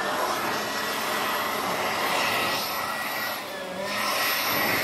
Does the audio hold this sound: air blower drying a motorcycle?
yes